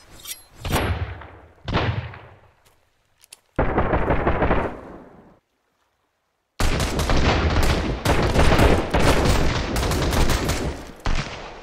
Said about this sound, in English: Wait, was that a gunshot?